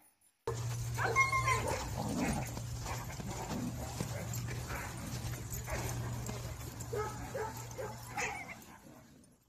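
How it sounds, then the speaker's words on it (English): A dog barks and yips several times over a steady hum and busy background noise, and the barks are only moderately loud. "D for dog."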